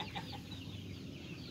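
Two-month-old chickens on a village laying-hen farm cluck and chatter continuously, a faint, busy flock sound with no talking.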